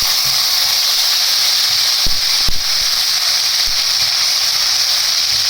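Garlic-ginger paste sizzles steadily in hot oil in a home kitchen pan, making a loud continuous hiss with a few faint utensil taps and no talking.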